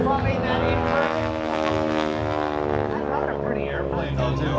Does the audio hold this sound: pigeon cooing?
no